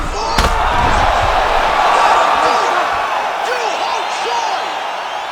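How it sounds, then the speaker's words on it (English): A fight arena crowd roars continuously and loudly, with whoops and cheers swelling throughout and a sharp slam near the start. "The crowd's going crazy"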